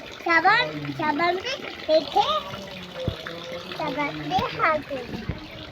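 Water splashing and trickling as a child's hand is washed, running under continuous talk between an adult and a child.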